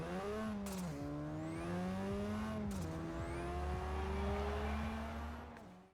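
Engine of a car in a racing video game drones steadily, its revs rising and dipping with gear changes, a loud continuous whine that never cuts out.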